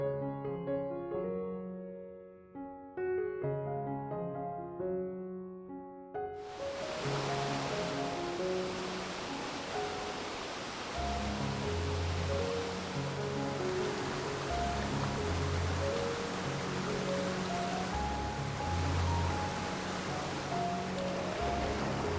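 A small waterfall in the foreground of a landscape photography spot with twin falls beyond pours as a broad, constant rushing hiss. A few seconds of soft musical tones come first, then the water roars up loudly and stays steady.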